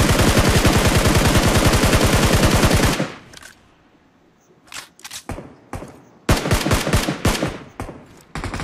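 Rapid automatic gunfire from a Vector submachine gun in Battlegrounds Mobile India, one long continuous burst followed by several shorter, sharp bursts in a mobile battle-royale game.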